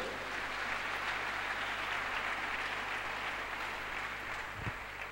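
A church congregation breaks into sustained applause during a worship service, a steady wash of clapping that holds evenly for about five seconds with no voices rising above it.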